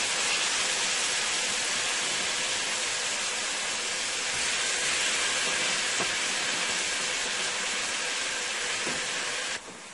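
Jamaican oxtail meat browns in a hot pot, giving a loud, continuous broadband sizzle that holds steady throughout with no talk.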